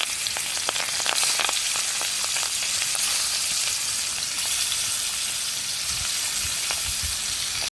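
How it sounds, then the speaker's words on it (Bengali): Pangas fish pieces fry in a little hot oil in an iron wok, a loud continuous sizzle close by with frequent sharp crackles and spitting pops, with no voices. "মাছগুলো আমি একটু করে ভেজে নেব।"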